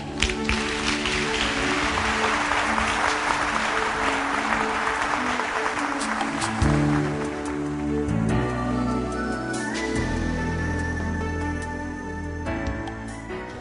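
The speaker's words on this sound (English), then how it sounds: "Why don't you give yourself a round of applause?" An audience at a motivational talk breaks into sustained applause, dense clapping for about six seconds that then thins as background music with sustained tones comes up and carries on beneath the fading hands.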